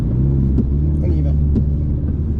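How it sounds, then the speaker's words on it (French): A car on the Magny-Cours circuit holds a steady, loud engine drone with a low rumble, close and continuous, while someone talks over it throughout. "On ouvre le volant, on accélère"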